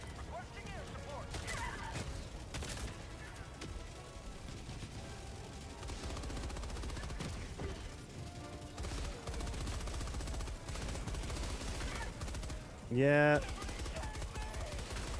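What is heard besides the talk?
machine gun firing in the video game Helldivers 2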